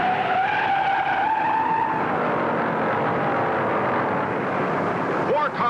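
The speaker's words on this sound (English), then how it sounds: "Four cars slide all over the track" Race cars on the track at the 1960 Daytona 500 skid and slide, a loud, continuous tire squeal and engine roar that holds for several seconds, then drops off abruptly with a brief whine at the end.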